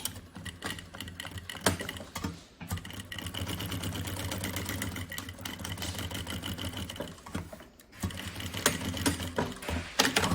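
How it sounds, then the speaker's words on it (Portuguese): A sewing machine stitches synthetic fabric to its lining at the edge for a bunny backpack, running in a steady fast whir with two brief pauses, close and continuous. "E agora passamos aqui também um ponto, uma costura à beirinha, para segurarmos o forro ao sintético"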